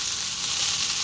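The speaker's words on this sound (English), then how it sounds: "Make sure you fry your rice really nicely." Pumpkin fried rice with cilantro sizzles in a pan, giving a continuous bright hiss of frying that stays steady and fairly loud at close range for about a second, with no talking.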